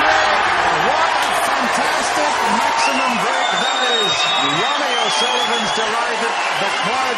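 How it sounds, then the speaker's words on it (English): A snooker crowd applauds and cheers after Ronnie O'Sullivan's 147 maximum break, a broad sustained wash of clapping and cheering under a commentator's voice talking close over it. "The crowd's delighted."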